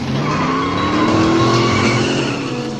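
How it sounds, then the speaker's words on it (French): Race car engines, a Cobra 427 against a Corbel 409, roar steadily and loudly on a racetrack with tire squeal and skidding mixed in, a continuous close wash of motor noise with no talk. "Et les moteurs ronronnés."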